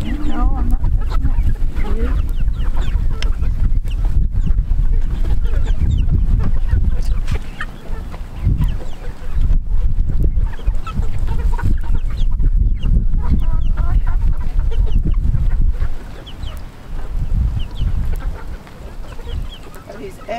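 A flock of young chickens eating sprouted organic whole grains, clucking and chattering busily up close amid scratching and pecking, loud and continuous with brief dips.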